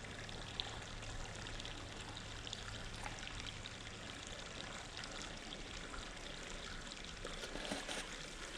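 Oily beaver lure pours steadily onto water with a soft, continuous trickling splash, faint and unbroken throughout, with no voices.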